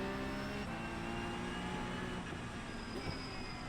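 Porsche 911 Cup car (992.2) in a racing video game at Suzuka, its engine droning steadily and loud with a brief shift in pitch as it downshifts to third, no voices over it.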